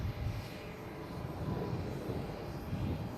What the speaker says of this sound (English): On the top there, we have a Southwest coming in from Denver. 737-800.